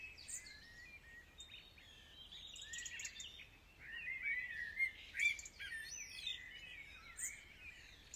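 Birdsong outdoors by a hedge, a busy run of bright chirps, trills and whistles from several birds, fairly close and building in loudness, with no voices.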